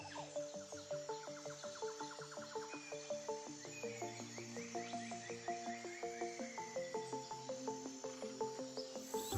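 A dense chorus of frogs croaks in steady, rhythmic pulses, with chirping insects underneath, fairly faint and distant.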